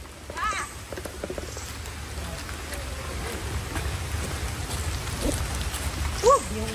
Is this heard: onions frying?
no